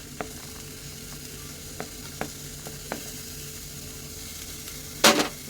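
Ghevda beans fry in a pan with a steady, soft sizzle broken by a few light scrapes of a spoon stirring, ending in a brief, bright clatter.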